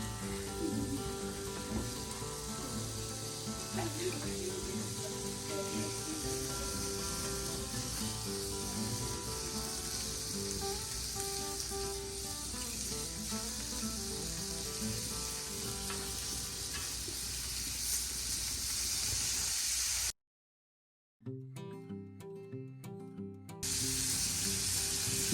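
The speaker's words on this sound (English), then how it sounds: "we're wanting it to get a nice, good sear on each side" Guinness-marinated steak kabobs searing on a grill, a loud, continuous close sizzle and hiss with crackling throughout, briefly cutting out near the end before resuming.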